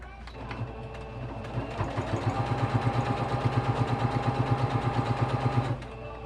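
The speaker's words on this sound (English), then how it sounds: "let's sew it down" A sewing machine stitches down folded fabric for a spoon handle, its steady rapid needle chatter running for several seconds at close range before stopping.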